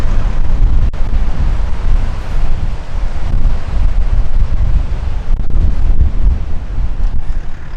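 Strong wind buffets the microphone over rough ocean surf at the back beach of Robe, a loud, constant roar with deep rumbling and no talk.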